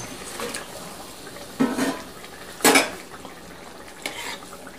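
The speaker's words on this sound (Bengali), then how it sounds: "ঝোল ফুটে উঠলে এরপর এর মধ্যে দিয়ে দেব মাছগুলো, ভেজে রাখা মাছগুলো" Fried rui fish pieces go into simmering gravy in a pan, marked by a few separate clattering knocks of metal against the pan over a soft, low background.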